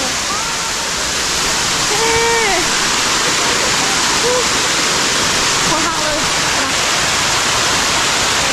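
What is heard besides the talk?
waterfall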